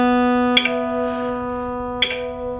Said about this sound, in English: So your string 2 ought to sound like that.